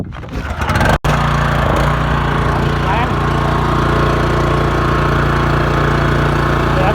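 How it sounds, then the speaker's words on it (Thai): A Robin 8.5 hp engine on a high-pressure washer pump pulls to a start, coughs briefly, then settles into a loud, steady close-up running drone. "นี่ครับปั๊มแรงดันสูงอ้าวติดเครื่องให้ดู ปรับไปที่ออนี่ยครับนี่ออน แล้วก็ติดเครื่องเลย"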